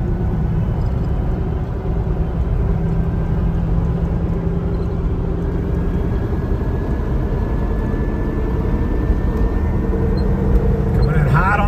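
A Range Rover L322 cruises on a highway at about 55 mph, giving a dense, steady rumble of engine and road noise that runs loud and unbroken throughout.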